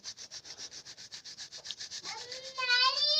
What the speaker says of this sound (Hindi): इधर आटा वगैरह मैंने छनाई करना शुरू कर दिया है